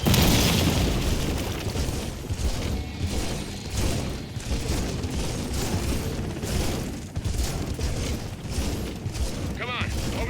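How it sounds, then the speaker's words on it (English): Repeated heavy booms and blasts from an airstrike in Gears of War 4 pound through a dense, busy battle mix, with rumbling low-end impacts recurring across the whole stretch and a voice talking over part of it. "I'm requesting an airstrike"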